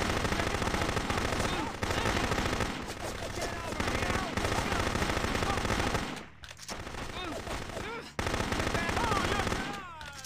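SMG gunfire in the spy shooter No One Lives Forever 2, long rapid automatic bursts broken by brief gaps, loud and close, with a voice talking faintly underneath.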